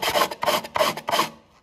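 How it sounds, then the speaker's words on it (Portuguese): Hand sanding a steering wheel trim piece for a Renault Clio sport wheel install, four rapid rasping back-and-forth strokes, close and fairly loud, fading out at the end. "eu estaria lixando um acabamento de volante"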